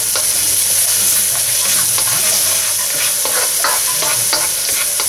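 Garlic sautéing in hot oil in a wok: loud continuous sizzling and crackling with frequent spatula stirs and scrapes throughout, close up and without speech.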